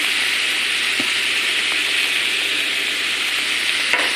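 Chicken liver and gizzard adobo sizzling hard in a pan, a loud, close, continuous hiss of frying with a few soft stirring clicks and taps.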